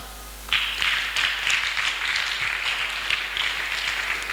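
A church congregation breaks into applause, a sustained patter of many hands clapping that starts suddenly and holds steady, with no speech over it.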